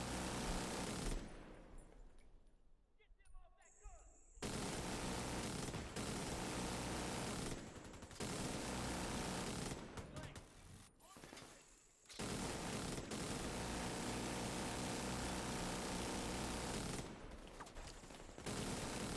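Video game gunfire during a multiplayer match on PS4 comes in dense bursts of automatic shots, interrupted by several short silent gaps, loud and continuous otherwise.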